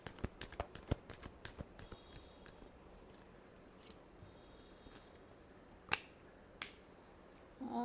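Tarot cards are shuffled by hand in a quiet room, giving sparse, sharp snapping clicks and soft riffles spaced irregularly, with a louder rustling burst at the very end.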